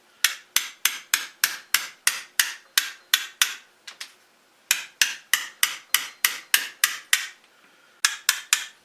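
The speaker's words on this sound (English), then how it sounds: "I'm going to chisel that lump off" Sharp hammer-on-chisel knocks chip a leftover lump off a freshly turned wet wooden bowl, struck in a steady run of about two dozen close, crisp blows with a brief pause and a final short burst.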